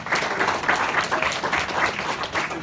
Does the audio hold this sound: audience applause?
yes